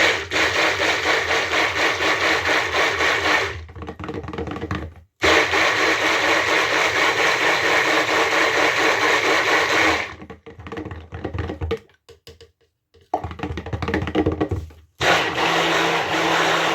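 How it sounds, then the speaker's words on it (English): A stick blender whirs steadily through wine soap batter in short bursts, a long loud run, a pause, then two more pulses with brief quiet gaps between them. "I'm going to stick blend this just a little bit, just to get it a little bit thicker"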